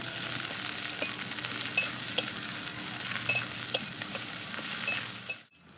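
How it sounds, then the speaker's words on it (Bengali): Chopped onions fry in hot oil in a pan for a Bengali egg curry, giving a steady close sizzle broken by a few light clinks of stirring before it cuts off abruptly near the end. "এখন ওই তেলে দিয়ে দিব পেঁয়াজ কুচি। পেঁয়াজটা হালকা লাল লাল করে ভাজবো।"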